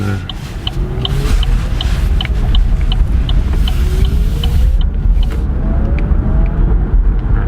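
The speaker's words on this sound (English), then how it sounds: "very pleasant electric motor sound" A 2017 Chevrolet Bolt electric car driving, its motor giving a rising whine over steady road and cabin rumble, with a faint repeating ticking in the interior.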